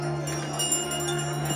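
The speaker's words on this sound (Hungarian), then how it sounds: "Hallgassa csak, milyen szépen szól ez a csengő." A small shop bell is rung close by, its steady tones held under a continuous bright ringing with no talk.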